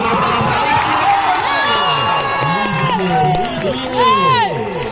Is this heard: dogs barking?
no